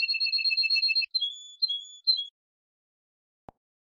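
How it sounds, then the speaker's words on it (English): A canary sings a rapid, bright trill followed by a few thin whistled notes, close and clear, then silence with one soft click. "The canary."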